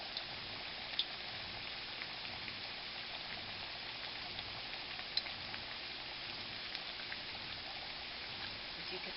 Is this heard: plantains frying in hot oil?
yes